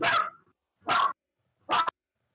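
A dog barks three times in a player's room, sharp separate barks spaced about a second apart with silence between them, moderately close.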